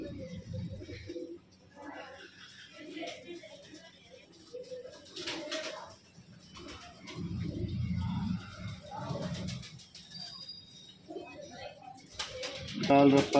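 Low, throaty cooing from a group of Punjabi Malwai pigeons, among them a red ratti female, rises and falls through a stretch of nearby talking by a man, with a louder burst at the close.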